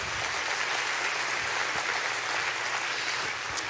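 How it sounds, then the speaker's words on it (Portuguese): A church congregation applauds in a dense, sustained wash of clapping that holds steady throughout, with no speech over it. "Pode aplaudir ao Senhor."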